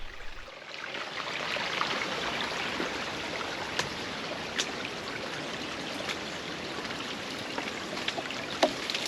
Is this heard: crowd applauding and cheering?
no